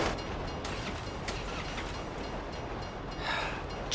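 A train rolls past in the video game GTA V, a fairly faint, continuous rumble with light metallic clatter and a slight swell toward the end.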